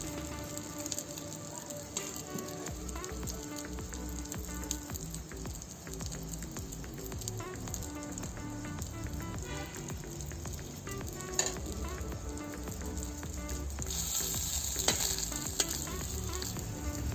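Bread slices fry in butter on a low flame, giving a steady, close sizzle with soft crackling and occasional stirring scrapes that runs throughout and swells slightly near the end, with no voices.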